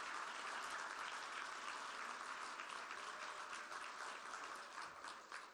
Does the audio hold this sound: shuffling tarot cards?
no